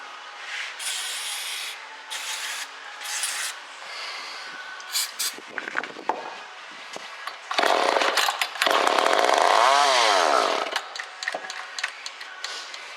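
A 1979 Mercury Cougar XR7 V8 fires up on starting fluid, bursting into a loud, rough run for about two seconds before dying back. Scraping and handling noises come before it, and nobody speaks.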